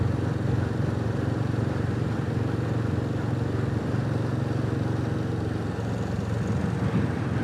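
A Royal Enfield Classic 350 motorcycle ridden on a Sunday-morning commute, its engine a steady, loud, close thrumming drone with road and wind rush that holds unbroken from start to finish.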